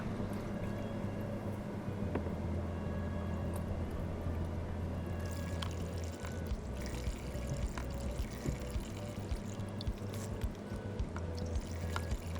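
Cleaning acid poured into a diesel particulate filter, a steady quiet trickle of liquid running continuously with faint clinks and handling noises.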